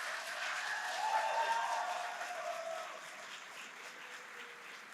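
Audience applause at a fall commencement ceremony, a broad steady wash of clapping from a large crowd that swells early and then gradually tapers while continuing to the end.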